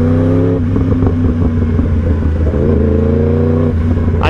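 A Yamaha R1M crossplane sportbike engine revs hard and close, its strong layered growl holding, dipping and climbing again over several seconds, with no talking.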